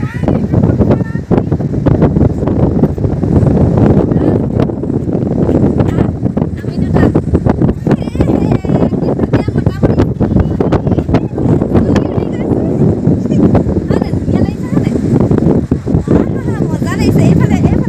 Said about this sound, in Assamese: বহুত জোৰত বতাহ দি আছে